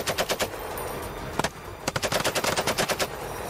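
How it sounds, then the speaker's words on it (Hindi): Bursts of M2 heavy machine gun fire from Ukrainian soldiers in the war against Russian forces, loud rapid volleys with a brief pause then a long rhythmic string of shots. "अमेरिका की M2 मशीन गन से यूक्रेन के सैनिक रूस की फौज पर गोलियां चलाते दिखे"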